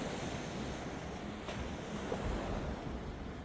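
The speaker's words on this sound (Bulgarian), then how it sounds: "Сигурно това е плажа." Continuous surf washing on a beach on Nusa Lembongan, a steady broadband rush of breaking waves with wind buffeting the microphone and no voices.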